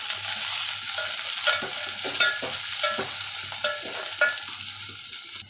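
Fried onion, green chili and chopped tomato stirred in a pan for a fish curry, with repeated scraping strokes of the spoon over a continuous sizzle, close and fairly loud, no talking.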